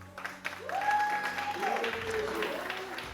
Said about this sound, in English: is like literally half the crowd cheering for Special?